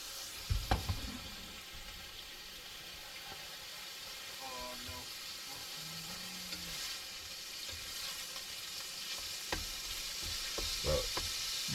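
Food sizzles and hisses steadily on a magnetic induction cooker, a continuous frying noise with occasional stirring clatter, partly under a faint voice.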